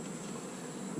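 Honey bees buzzing steadily at an open hive during an inspection, a continuous dense drone with no breaks across the short span.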